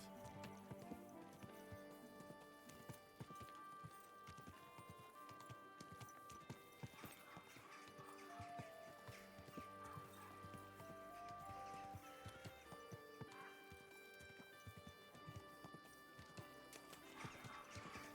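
Steady clip-clop of horse hooves in the video game Kingdom Come: Deliverance 2 over a busy musical backdrop, with a horse whinnying partway through; the hoofbeats keep an even trotting rhythm throughout.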